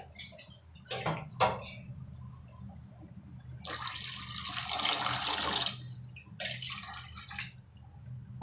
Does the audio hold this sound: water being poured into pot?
yes